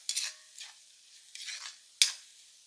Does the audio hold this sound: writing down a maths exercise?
no